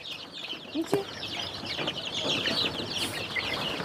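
Backyard chickens, including young chicks, cluck and peep at close range in a steady busy chatter, with faint rustling in the background.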